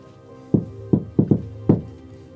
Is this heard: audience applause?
no